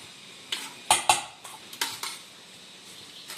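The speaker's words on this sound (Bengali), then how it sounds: "আমি এটা ভালো করে মেখে নিচ্ছি জমিয়ে" Ghugni and puffed rice being mixed by hand with onion and cucumber in a bowl, a series of soft stirring scrapes and a few sharper clinks of a utensil against the dish, close and fairly quiet with no talk.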